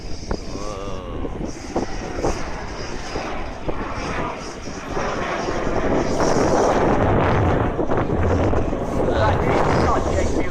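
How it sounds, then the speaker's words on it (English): A Rolls-Royce-engined aeroplane at an airshow roars past, a broad engine rumble building and holding loud in the second half, with wind buffeting the microphone and a commentator talking over it. "But the aim of a remarkable engine, the Rolls-Royce engine."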